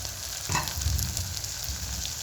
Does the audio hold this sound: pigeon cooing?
no